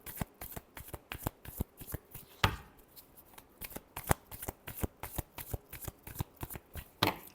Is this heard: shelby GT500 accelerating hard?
no